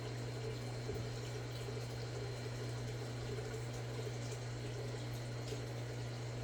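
Liquid pours into a shoebox worm bin of red wiggler worms as a steady, close trickle that runs for several seconds without pause, with no talking.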